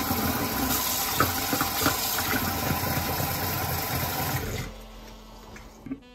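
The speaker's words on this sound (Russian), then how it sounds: "не забудьте тут же залить воду." Water pours steadily from a tap into a kettle that was just used for setting alabaster plaster. The rushing, splashing stream runs loud and close for about four seconds, then cuts off, leaving a quiet hum and a faint clink.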